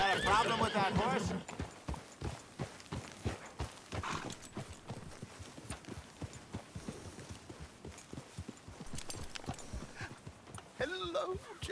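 Hooves clopping steadily from horses in Red Dead Redemption 2, with a neigh at the start and another whinny at the end, while voices talk over the middle of the passage.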